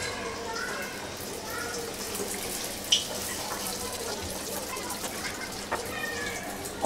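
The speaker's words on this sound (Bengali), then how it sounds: "এগুলাকে আমি তেলের মধ্যে ছেড়ে ভেজে নিই" Chicken donuts fry in moderately hot oil with a continuous dense sizzle and scattered crackles and pops, steady throughout, while a person talks faintly underneath.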